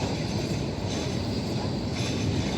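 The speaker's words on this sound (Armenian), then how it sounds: "ահա իմ տրամվայն էլ եկավ" A city tram arrives along a busy street, a steady low rumble of rail wheels with faint squeals, moderately distant and continuous, with no talk over it.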